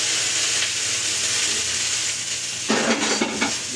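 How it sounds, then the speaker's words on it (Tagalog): Onion and tomato fry in a pan with a steady sizzle, and near the end a utensil stirs and scrapes against the metal. "Hinahalo na natin yung kamatis."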